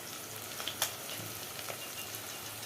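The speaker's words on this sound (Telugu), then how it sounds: "అల్లం వేస్తున్నా దోస్తులు." Ginger drops into a hot pan with curry leaves and sizzles and fries steadily, a close hiss with a few small crackles and pops and no talking.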